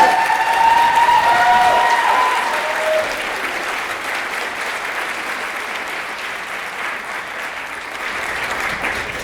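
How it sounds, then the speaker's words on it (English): Sustained applause fills a room at a spring nursing graduation pinning ceremony, a dense crowd clapping loudly at first with a few cheers, then settling into steady, slightly softer clapping throughout. "Another round of applause, please."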